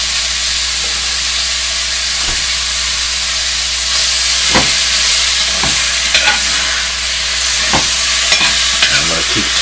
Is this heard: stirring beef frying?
yes